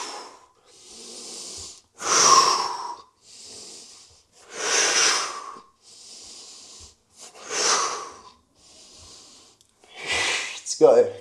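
Heavy, forceful breaths rise and fall in steady bursts through a yoga core workout of planks and knee drives, loud and close with a wheezy, gasping edge and short quieter pauses between each exhale.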